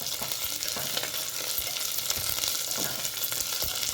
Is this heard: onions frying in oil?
yes